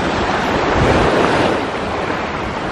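Sea waves wash continuously at Koh Mun Nok beach, a loud broadband surf roar mixed with wind buffeting the microphone, steady across the short stretch with no voices.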